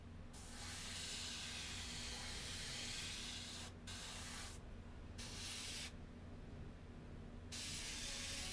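Airbrush spraying Tamiya paint onto a model M60A3 tank with an M9 bulldozer, a close, steady hiss in several long bursts separated by short pauses, with no talking.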